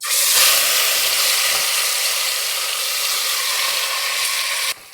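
Marinated mutton for biryani sizzles loudly in a hot pan, a dense continuous frying hiss that holds steady for several seconds before cutting off abruptly, with no talk.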